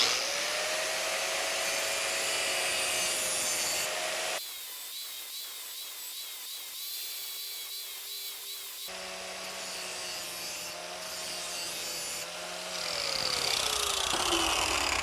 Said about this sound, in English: this blade has some pretty bad chunks in it, so we sharpen that up.